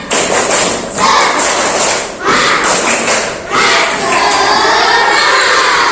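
A group of schoolchildren performs a rhythmic spirit clap in a classroom, loud and close, with repeated bursts of clapping and shouting broken by brief pauses.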